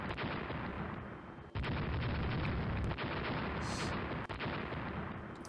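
Heavy naval guns in a Rule the Waves battle, a sustained loud rumbling roar of battleship fire with a few sharp breaks and bursts, no voices.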